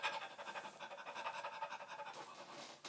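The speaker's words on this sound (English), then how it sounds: "another one is an exercise like yoga where they do breath of fire" Rapid, rhythmic breath-of-fire breathing from a yoga-style exercise: quick, forceful panting exhalations repeating steadily and close, with no speech.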